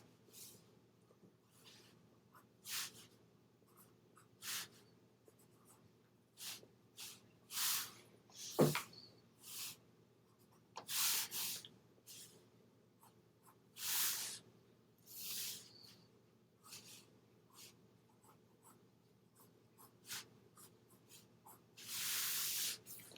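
Pencil drawing a cube on paper, heard as soft scratchy strokes coming in irregular bursts, faint against a low steady hum, with no talk.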